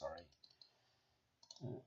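Computer mouse clicks, a few quick soft taps spread across a quiet stretch, with a voice briefly before and after.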